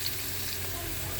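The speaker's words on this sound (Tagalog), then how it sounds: "Mag-igisa tayo ngayon." Onions sauté in a pan that already holds annatto oil for chicken sotanghon, giving a steady close sizzle and crackle with faint stirring and no voices.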